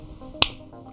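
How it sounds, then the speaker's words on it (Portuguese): A single crisp finger snap rings out sharply near the mic, isolated against a quiet background. "estalar de dedos."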